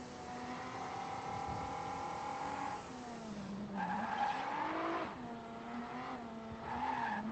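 A Formula V12 race car in the racing game RaceClub howls with a high engine note that rises and dips through gear changes, steady and fairly close, with a hint of tire squeal.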